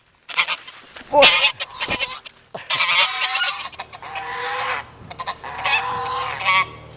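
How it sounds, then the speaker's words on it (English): A flock of neighborhood geese honks loudly and close in repeated harsh bursts and overlapping calls, with one brief spoken exclamation. "these are the attack geese that live in the neighborhood"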